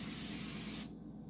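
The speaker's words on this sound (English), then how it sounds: "Spray some pan so the pancake doesn't get stuck." Cooking spray hisses from an aerosol can onto a hot, preheated pan for pancakes, a steady close-up spray burst of under a second that stops abruptly.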